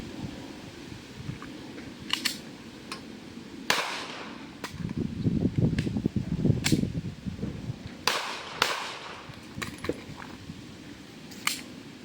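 Sharp, well-spaced 9mm pistol shots at an outdoor firing range, about ten reports scattered irregularly, fairly close and loud over a low rumbling background, with no talking.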